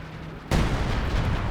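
Base artillery firing in the real-time strategy game Company of Heroes 2, a sudden heavy boom that cuts in after a quiet moment and keeps rumbling loudly, broad and dense, with no voices.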